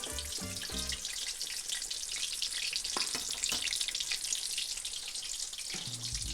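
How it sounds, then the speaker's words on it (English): Spices toast in hot oil in a fast-browning pan, giving a steady, dense sizzle and crackle throughout with a few soft stirring knocks and no talking. "frying this up. You want your spices to toast a little bit."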